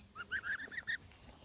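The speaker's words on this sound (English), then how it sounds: "Have to cuddle the goose, the geese." Geese honk in a garden in a quick run of about half a dozen nasal calls, close but fairly quiet, with no talking over them.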